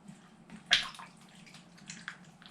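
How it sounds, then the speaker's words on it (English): Sausage and eggplant soup pours from a pot into a slow cooker with a soft, wet splash and gurgle, one brief louder slosh early, then quiet liquid trickles, close and faint, with no talk. "it's going into the slow cooker."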